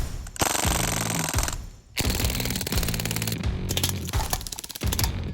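Crosman DPMS SBR BB gun firing on full auto in long, rapid rattling bursts, close and loud, with brief gaps between strings of shots and no talking.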